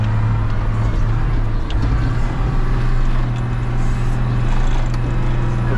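Caterpillar 930H wheel loader pulling away on a narrow road, its heavy diesel engine droning loud and steady with a strong low hum and a slight rise as it accelerates.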